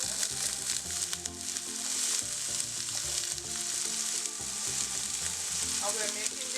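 Chopped white onion sizzles and fries in a generous pool of olive oil in a pot, making a loud, steady crackle with occasional stirring scrapes and clinks.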